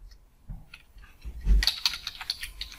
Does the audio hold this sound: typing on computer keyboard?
yes